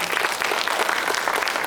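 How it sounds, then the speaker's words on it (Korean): Indoor audience at a cinema book talk clapping steadily, a dense continuous patter of many hands, close and even in loudness. "먼저 박수 드리겠습니다."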